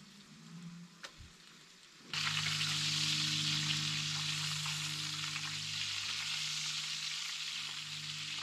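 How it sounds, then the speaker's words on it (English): Pancakes frying in a pan at a lean-to campsite during canoe camping in the Adirondacks, a loud steady sizzle that starts abruptly partway in and continues alone, after a quieter stretch with a faint tick. "maybe work up some pancakes or something in the lean-to"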